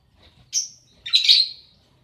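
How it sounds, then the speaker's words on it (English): Two pet birds give sharp, high chirping squawks, one short call followed by a longer harsher one, close and loud against a nearly silent background. "Actually, they're two of my aggressive pet birds."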